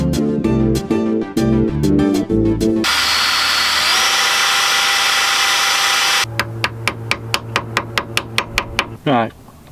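A brief voice at the start, then a steady whirring tool grinds for a few seconds on the last bolt of the ABS sensor on a Honda Civic, followed by a run of sharp, evenly spaced ratchet clicks, loud and close.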